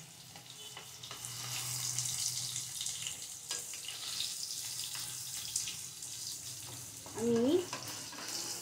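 Vegetables for a spinach curry fry and sizzle in a pan, a steady soft crackle with occasional stirring scrapes, while a voice briefly speaks near the end.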